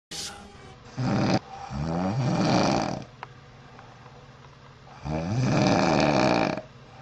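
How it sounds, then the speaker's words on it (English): An old woman snores loudly and close by, two long rasping breaths separated by a quiet pause. "they find a snoring old woman in a room"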